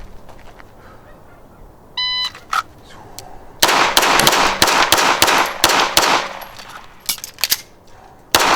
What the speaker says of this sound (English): I'm going to be shooting my Beretta 92G from Wilson Combat